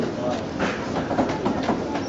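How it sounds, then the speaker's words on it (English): A narrow-gauge train rolls into the station at Interlaken, Switzerland, arriving from Lauterbrunnen with a steady rumble and clatter of wheels close by. "And here's a train coming in from Wengen."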